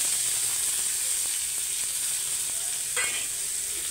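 Onion, dried chili and curry leaves fry in oil with a steady, dense sizzle, broken by light stirring taps and a brief louder crackle near the end.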